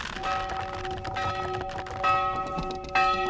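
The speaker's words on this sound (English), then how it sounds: "She does this and can clearly see the bell making all that noise." A church bell rings out with a sustained metallic tone and shimmering overtones, struck again around two and three seconds in, each strike renewing the ringing over a faint background.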